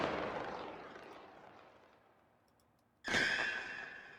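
A fireworks sound layer for an asteroid video game: a deep rumbling blast that slowly decays, then a second sudden explosive burst with a bright, crackling edge, loud and close with no voices.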